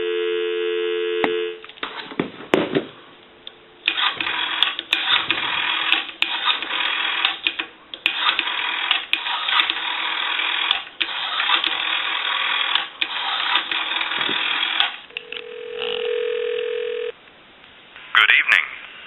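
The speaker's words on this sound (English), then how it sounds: "Give you some dial tone." A Western Electric green three-slot payphone, converted to a regular phone line, gives a steady dial tone and a run of crisp tone-dialing beeps with handset clicks, followed by a short held tone.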